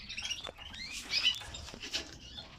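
Red lipochrome canaries, a group of young birds and one adult, chirp in short high tweets with light fluttering and patter scattered through, close by and fairly soft.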